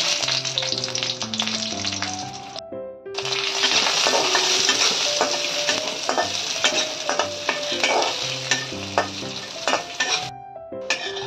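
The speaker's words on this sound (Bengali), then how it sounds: "আমি এই নারকেল আর এই কাজুগুলো ঘিতে ভেজে নিচ্ছি" Grated coconut and cashews fry in ghee in a pan with a continuous crackling sizzle, broken by frequent metal spoon scrapes and clinks against the pan and a short pause in the frying.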